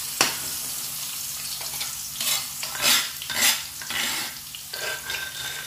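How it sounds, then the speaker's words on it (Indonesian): Ground spice paste sautéing and being stirred in a pan for a spicy rice-vermicelli dish, with uneven scraping and sizzling bursts, close up and without talk. "Kita tumis bumbunya teman-teman ya"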